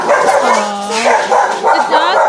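A dog yips and barks repeatedly at close range in a home during a live podcast, with high whimpering tones mixed in and a person talking over it.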